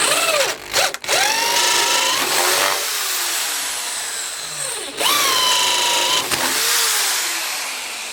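A Black and Decker KR705K hammer drill fitted with a Bosch Daredevil bit bores a hole at about three-quarter speed, whining loud and close in a rising, sustained motor tone with a brief stop and restart midway.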